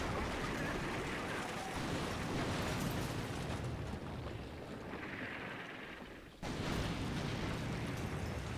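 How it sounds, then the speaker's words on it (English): Artillery shells slam into an already tank-damaged building in the Combat Mission: Shock Force 2 war game, a dense, continuous roar of blasts and rumble that dips briefly before a sharp renewed burst. "You can hear the shells coming in. That spotter's rounds are coming in directly on target on that building"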